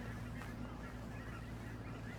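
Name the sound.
seagulls calling at a park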